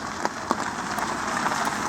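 Heavy rain lashing down outside a 1999 camper van in southern Spain near Gibraltar, a steady dense patter with occasional sharper drops striking the vehicle, heard from inside, with no talking.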